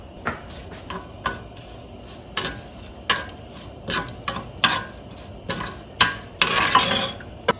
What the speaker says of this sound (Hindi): इसको आपने अच्छी तरह से एक दफ़ा भून लेना है ताकि आपका मसाला कच्चा ना रहे।